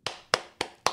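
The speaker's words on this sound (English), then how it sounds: "I would like first a big round of applause for our speakers" Four slow, evenly spaced hand claps ring out close and clear. They sound like a lone person or a small group clapping for the speakers rather than a full audience.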